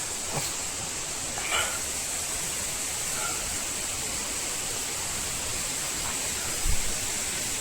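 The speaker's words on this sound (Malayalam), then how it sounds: "ഒരു വെള്ളച്ചാട്ടമുണ്ട്" A waterfall on the Agasthyarkoodam forest trek pours as a constant, even rush of water, with a few faint knocks and footfalls.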